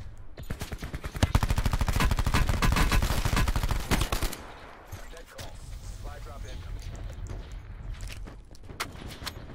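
Call of Duty Blackout gunfire near Hydro Dam, rapid automatic bursts crackling loud and close for about four seconds, then sparser, more distant shots and footsteps, with a player talking over it.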